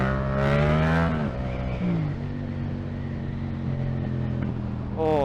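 A Yamaha MT-07 motorcycle engine revs hard up close while lifting into a wheelie, pitch climbing and dipping with throttle changes, then holding a loud steady drone before another sharp rev at the end.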